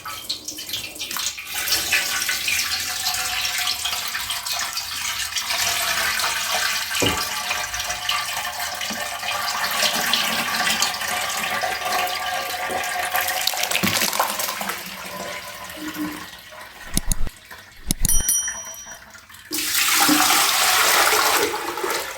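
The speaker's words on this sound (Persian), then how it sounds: "آب تفاله های سری دوم رو اول از آبکش رد میکنم" Water from soaked samanu wheat pulp is poured through a colander, a loud, close, continuous splashing gush that rises and falls, with a few brief clanks and a strong final surge, no talking.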